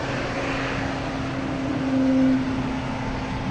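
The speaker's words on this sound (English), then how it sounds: "That's this JetBlue here making all the racket." A JetBlue jet airliner at Boston Logan Airport rumbling loudly and steadily nearby, with a faint tonal whine rising briefly in the middle and no voices.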